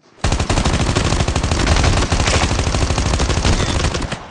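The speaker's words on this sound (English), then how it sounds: "Notice as I was shooting at this enemy, I was moving to the left." Dense, loud automatic gunfire from the video game Call of Duty Mobile, a rapid unbroken burst of shots lasting several seconds, with no talk.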